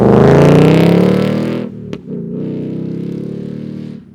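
A Ford Mustang Mach 1 engine runs loud and close in a steady, deep drone, dips sharply for a moment near the middle, then settles back into a strong, even roar.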